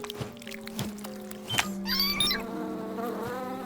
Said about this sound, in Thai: การกระพือปีกจะช่วยให้น้ำผึ้งเหนียว